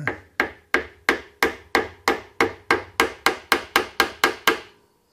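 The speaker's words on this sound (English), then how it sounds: "Use my hammer here." Fifteen sharp, evenly spaced hammer blows strike wood during a plane-adjusting hammer build, each a crisp close knock with a quick decay, steady in rhythm and alone without talk.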